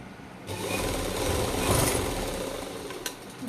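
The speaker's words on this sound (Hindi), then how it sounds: "इस नेक आगे वाले नेक की साइड ऐसे फोल्ड करके यूँ पकड़ के हम यूँ सिलाई लगाएंगे" A sewing machine runs steadily while stitching piping onto a garment neckline, a close, continuous mechanical whir with a brief click near the end.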